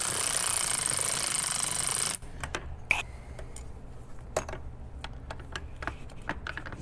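Bolts on a Mercury Marauder brake system are being tightened, starting with about two seconds of dense mechanical whirring. After that come sparse, sharp metallic clicks and ratcheting taps at close range.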